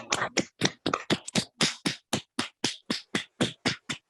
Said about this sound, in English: I think you have deserved our applause